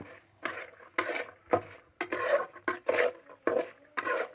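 Spices being fried and stirred in a cooking pot, with a rhythmic series of scraping, clinking strokes of a utensil against the pot, repeated roughly every half second, close and moderately loud.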